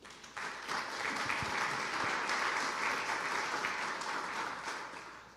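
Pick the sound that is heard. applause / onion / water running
applause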